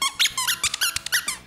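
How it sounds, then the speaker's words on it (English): A dog repeatedly squeaking a squeaky toy, a rapid run of sharp, high-pitched squeaks in quick bursts, close and loud with no talking. "She wakes up every morning squeaking her toy."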